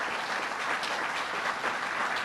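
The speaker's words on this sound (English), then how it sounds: "County Executive Rob Astorino, let's give him a round of applause." An audience at a governor's budget address in Westchester applauds for the county executive, a full, sustained round of clapping, loud and even throughout, with no voices over it.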